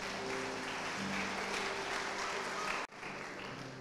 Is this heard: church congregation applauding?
yes